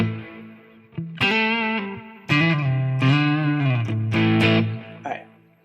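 Guitar played through a Friedman IR preamp into a Quad Cortex with delay and reverb, several sustained distorted chords and notes in short phrases, loud and close with ambient tails.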